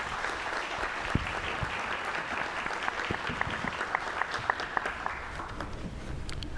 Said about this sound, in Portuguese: Peço a todos uma salva de palmas.